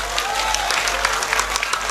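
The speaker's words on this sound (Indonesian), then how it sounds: "Tepuk tangan kagem panitia." Crowd applause for the event committee at an Islamic religious gathering, steady dense clapping from many hands, loud and continuous throughout.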